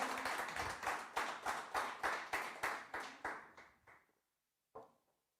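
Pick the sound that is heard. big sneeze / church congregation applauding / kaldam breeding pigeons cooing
church congregation applauding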